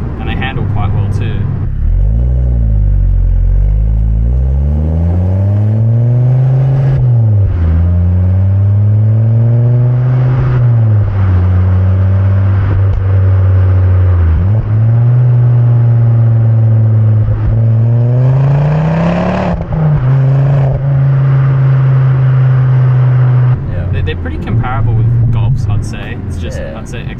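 A Ford Focus ST MK2 XR5 turbo hatchback with a Stage 1 tune revs loudly and close by, its engine note climbing and falling through several long sweeps before settling into a steady high idle.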